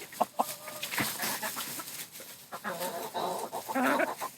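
Chickens cluck and murmur nearby in scattered bursts, with a few sharp louder calls amid rustling movement.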